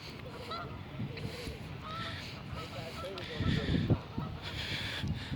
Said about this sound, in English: As you can see, all those ducks still swimming in here.